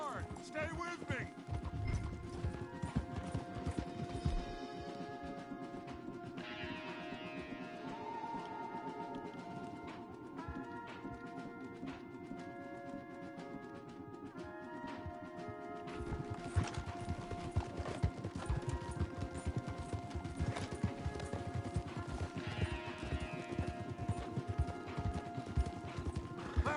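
Horses galloping hard in Red Dead Redemption 2, a steady clip-clop of hooves with occasional neighs and whinnies, mixed with a musical score and a voice speaking over the ride.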